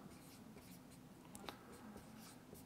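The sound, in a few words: writing notes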